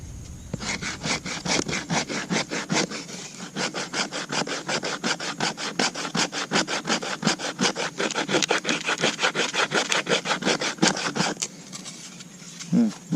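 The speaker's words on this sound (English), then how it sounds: "start making some fine shavings with the spine of my blade" The spine of a knife blade scrapes fine wood shavings from a single stick for a survival fire, making a close, fast run of rhythmic rasping strokes that continues steadily for about eleven seconds before stopping.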